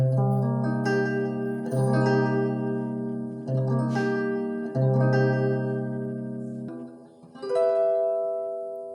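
A guitar major seventh chord strummed several times in a slow, steady rhythm, each strum ringing out warmly before the next, with a final lighter chord.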